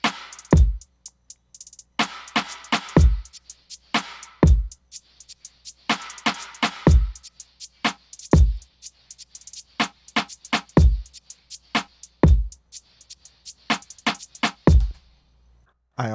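A produced electronic beat built in Ableton plays repeated punchy knock hits with crisp hi-hat ticks and snappy percussive bursts in a steady looping rhythm, with no talking.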